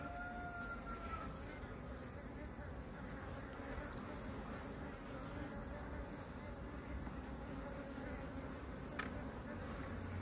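Dense, steady buzzing of many honeybees at an opened hive during an inspection of a newly split colony, close and continuous, with a few brief higher whines from bees flying near.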